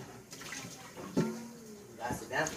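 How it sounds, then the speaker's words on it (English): Water runs briefly while a cooking pan is rinsed out during quesadilla making, a short splashing burst amid kitchen noise with voices talking over it. "I need you to rinse out your pan"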